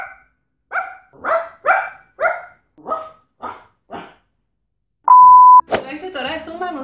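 A person imitates a dog barking with a quick run of eight short, loud yips, followed by a steady electronic beep and a brief burst of speech.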